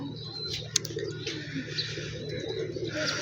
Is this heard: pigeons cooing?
yes